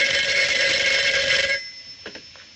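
An old telephone bell rings loudly and steadily for about a second and a half, then stops, followed by a few faint clicks and handling sounds as the receiver is picked up.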